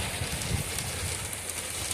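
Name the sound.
rain falling on pumpkin field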